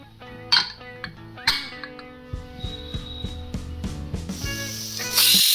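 A pressure cooker cooking chickpeas hisses and sputters in short bursts, with light metallic clinks and a louder rush of steam at the end; close, with no talk.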